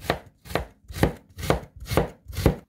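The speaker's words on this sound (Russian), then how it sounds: "Затем нарезаем тонкой соломкой." A knife cuts carrot into thin strips on a cutting board, six crisp, evenly spaced chops about half a second apart, close and clear with no voices.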